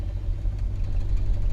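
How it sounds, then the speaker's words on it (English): A 1966 Ford Galaxie 500 engine idles with a low, uneven rumble, roughened by the brakes being applied and a faulty power brake booster, staying steady and fairly loud throughout, with no voices. "when I apply the brakes, see how the engine roughens up?"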